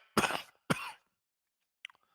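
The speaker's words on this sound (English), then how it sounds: "wasn't even coughing until now." A person coughs twice in quick succession, loud and close, followed after a pause by a faint short throat sound.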